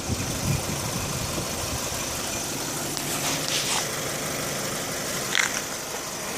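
A Honda CR-V car engine idles with a low, steady rumble and faint mechanical vibration. The sound is fairly quiet, with a couple of brief louder clicks and no one speaking over it.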